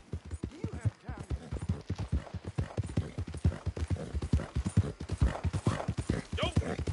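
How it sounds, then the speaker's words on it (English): Horse hooves clip-clop in a steady walking rhythm in the video game Red Dead Redemption 2, close and distinct, with a brief whinny near the end. "My horse."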